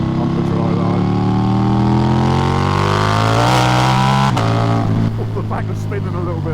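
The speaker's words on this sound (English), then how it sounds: "you just turn that throttle, and my God, that sounds absolutely incredible" A Ducati V4 Diavel with a full Akrapovic exhaust revs hard, its deep, loud engine note climbing steadily in pitch, then dropping sharply and settling lower, with a voice faintly underneath.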